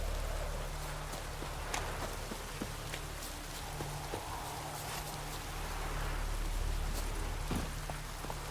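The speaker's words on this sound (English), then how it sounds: "Looks like rain." Rainfall in The Witcher 3: Wild Hunt, in the Velen region, a steady, even patter of drops across the whole stretch, with faint scattered splashes and a low ambient hum beneath, and no voices.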